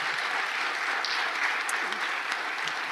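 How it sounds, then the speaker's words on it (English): Audience applause fills a lecture hall on deception in Renaissance politics, a dense, steady patter of many hands clapping at moderate distance, with no speech over it. "at least I can applaud you, and I think we all can"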